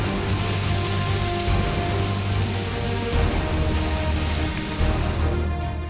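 Heavy, unrelenting monsoon rain pours near the Mundaje–Dharmasthala road in coastal Karnataka, a dense, even hiss of water on surfaces that continues loud and unbroken throughout, with no voices.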